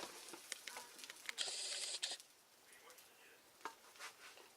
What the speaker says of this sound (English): you can take this out with a spatula.